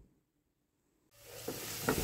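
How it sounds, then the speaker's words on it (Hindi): Masala for aloo gobi sizzles in a hot pan, starting abruptly after a brief silence as a steady, close frying hiss with a few light stirring clinks, and no voices. "मसाला ये भून रही हूँ"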